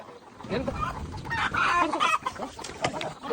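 Hens clucking up close in short, irregular bursts in a Korean village, mixed with some bustle and handling noise around them.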